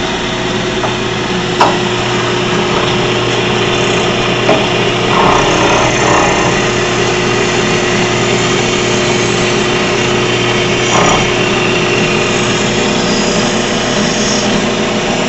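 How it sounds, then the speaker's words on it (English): Metal spinning on a lathe makes a loud, constant whirring drone with a steady motor hum, broken by a few faint scraping and knocking touches as the tool presses against the spinning metal. "Now comes the spinning part."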